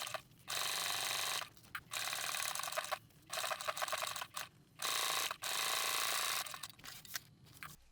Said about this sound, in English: we're going to stitch a 1 centimetre seam along that edge using our regular stitch length